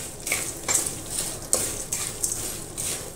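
Chickpeas (chana) tossed into hot oil for jowar chivda, giving bursts of sizzling and spatula scrapes against the pan at an uneven rhythm, close and without speech.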